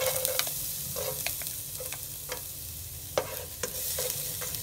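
Chopped garlic frying in about three tablespoons of hot oil for chilli garlic fried rice, a close continuous sizzle with sharp spatula taps and stirs scattered throughout, no talking.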